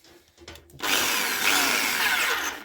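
A repaired electric drill switched into hammer mode, starting after a short quiet moment and then running loudly and steadily with a harsh, rattling buzz, close by.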